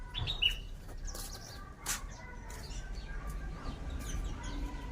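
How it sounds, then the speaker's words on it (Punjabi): Sparrow chicks chirp from a nest among the branches of a garden fruit tree, giving a few thin, high, scattered peeps over soft outdoor background noise, faint to moderate and without talk. "ਤੇ ਆ ਵਿੱਚ ਬੱਚੇ ਆ ਚਿੜੀ ਦੇ ਬੱਚੇ ਹੁਣ ਪਲ ਗਏ"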